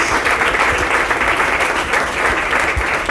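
A room applauds the winners of a university essay contest on transparency, with strong, continuous clapping from a crowd held at a steady level from start to finish.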